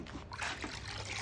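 Old-school BMX bike part lifted out of a vinegar soak, liquid trickling and dripping back into the container in a short, close splatter.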